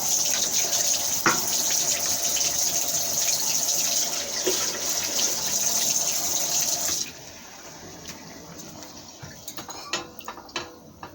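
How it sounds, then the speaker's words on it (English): Tap water runs steadily into a sink while aloe vera leaves are rinsed, a constant close hiss that cuts off abruptly partway, leaving faint drips and handling sounds. "I still need to rinse this aloe vera"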